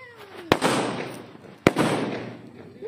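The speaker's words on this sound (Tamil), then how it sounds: "அடுத்தது அஞ்சு குருவெடி ஒன்றா வச்சுருக்கோம் பாருங்க" Kuruvi firecrackers set off together for Diwali go off as two loud, sharp bangs about a second apart, each trailing a brief rumbling decay, with no voices.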